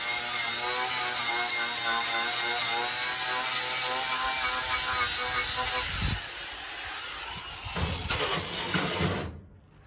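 Ratchet wrench clicking steadily while bolts are driven back into an exhaust bracket during a Peterbilt 359 truck restoration, a dense close mechanical rattle that continues for several seconds before stopping abruptly.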